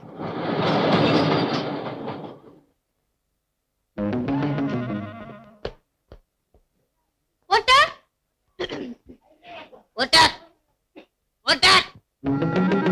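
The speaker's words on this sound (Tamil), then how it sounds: "ட்ரெயின் வந்துட்டு போகுது" A train rumbles past in a loud burst for about two seconds, then fades; afterward people talk in short exchanges.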